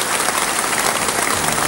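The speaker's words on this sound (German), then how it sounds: "Der Applaus führt uns hinüber" Audience applause at a televised folk music show staged in Kiel in 1991, a dense, steady wash of many hands clapping that fills the whole moment at even loudness with no voices.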